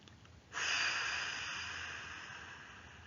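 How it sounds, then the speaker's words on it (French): A forceful breath blown out hard through the mouth during a relaxation exercise, starting abruptly and then fading slowly as a long, steady airy rush, close and alone. "Expiration, soufflez fort par la bouche pour chasser les tensions accumulées dans votre dos."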